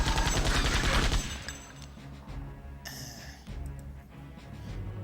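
Gunshots in the Septerra Core video game, a loud rapid burst of fire at the start, then a sharp metallic crack partway through over a steady game backdrop.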